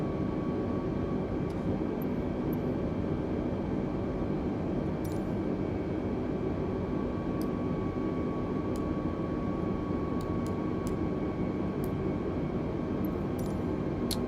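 Steady airliner engine drone from Microsoft Flight Simulator 2020 on a flight from Rovaniemi to Helsinki, a loud, constant broadband roar with a faint tonal hum and scattered light clicks, no voices.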